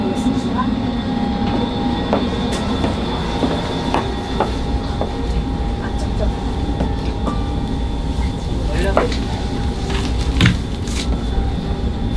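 Steady rumble inside an SRT high-speed train in Korea, with wheels clattering and occasional metallic clicks and squeaks throughout.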